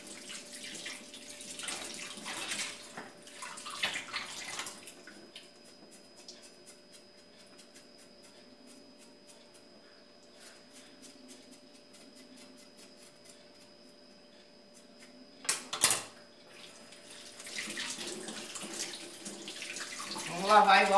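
A kitchen tap runs while meat for feijoada is rinsed and scraped clean: a rushing stream of water at the start and end, quieter splashes and trickling in between, and a short clatter near the middle.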